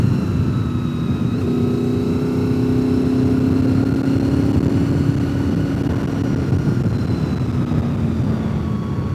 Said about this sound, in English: Riding a 26-year-old VFR, it's like riding a bike 2 up.